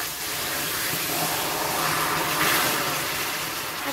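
Half a cup of water hits hot caramelised sugar in a pan, producing a steady, loud, hissing sizzle that rises slightly midway and holds throughout.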